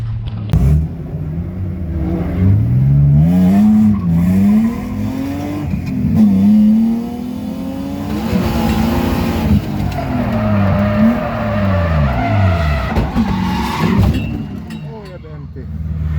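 Racing car engine in a racing video game, rising and falling revs with repeated gear shifts and tire squeal through corners on worn tires, with someone talking over it throughout.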